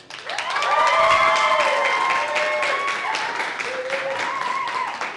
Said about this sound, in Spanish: fuerte el aplauso para ustedes